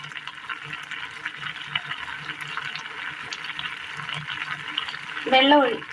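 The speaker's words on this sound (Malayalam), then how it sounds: "വാളംപുളി പിഴിഞ്ഞ വെള്ളമാണ് ഒഴിച്ചു കൊടുത്തിരിക്കുന്നത്." Tamarind water squeezed from tamarind pulp is poured into a pan of Kerala curry, a steady rushing, splashing flow of liquid that swells briefly louder near the end.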